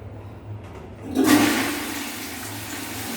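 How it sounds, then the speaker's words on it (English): A Gourmet flush tank on a Jaguar commode flushes once in a renovated apartment bathroom, a sudden rushing surge of water that peaks and then settles into a steady draining hiss and refill, close and clear with no talk. "Gourmet flush tank, Jaguar commode"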